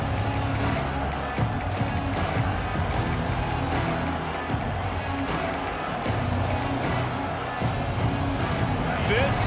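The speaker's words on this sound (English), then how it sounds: "This crowd ready to make its presence known." A stadium crowd in EA Sports College Football 26 roars steadily under near-constant play-by-play commentary, a dense, continuous wash of cheering with occasional louder swells.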